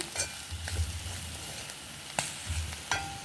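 Capsicum masala being stirred in a frying pan, gentle sizzling under soft scraping and a few clinks of the spoon against the pan, close and quiet.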